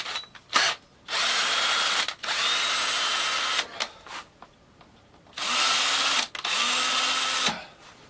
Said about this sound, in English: thread the PVC.